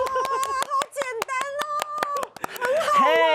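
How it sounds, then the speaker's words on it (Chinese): An audience claps hands in a quick, uneven rhythm, roughly a dozen sharp claps, while a voice sings or talks over them and fills the gaps between. "拍拍手"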